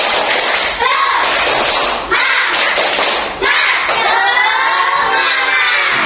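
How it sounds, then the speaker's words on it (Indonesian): A group of children performs a rhythmic spirit clap, their sharp bursts of clapping punctuated by loud, excited shouting and cheering voices, with brief pauses between the energetic rounds. "Tepuk semangat."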